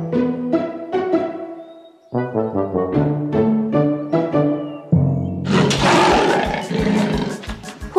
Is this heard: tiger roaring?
yes